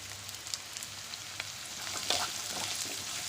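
Chopped beans, carrots and green chilies frying in a pan for a vegetable stew make a steady close hiss of sizzling oil, with a few light stirring clicks and a slight swell toward the end, no voices.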